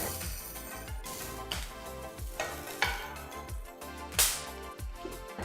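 Garlic, ginger, green chilies and curry leaves sizzle and crackle steadily in hot oil in a pan, with occasional scraping stirs and light clinks of a utensil, close up with no voices.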